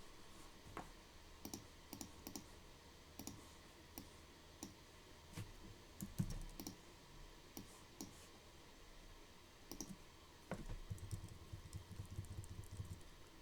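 Arrow keys pressed on a computer keyboard, a string of crisp close clicks spaced irregularly over steady low background noise, with a quicker cluster of presses near the end.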